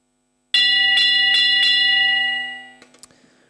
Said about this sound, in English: All right, Jamie Kermond gets the bell